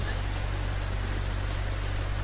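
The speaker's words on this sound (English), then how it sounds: "if you ever want to undo the sound of the rain" Steady rainfall in the BeamNG Drive driving game on an East Coast USA map, a constant dense hiss of drops on surfaces with no breaks or variation, alone and even throughout.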